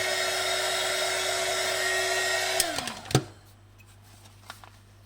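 A heat gun warming vinyl wrap on a BMW E90 steering wheel insert, a steady loud whirring blow that winds down and cuts off partway through, followed by a few faint handling clicks.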